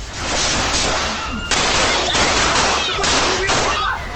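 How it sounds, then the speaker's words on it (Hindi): Several loud, sharp pistol shots crack out in quick, irregular succession over a noisy, chaotic background of raised voices. "कुछ युवक पिस्तौल से ताबड़तोड़ फायरिंग करते दिखे"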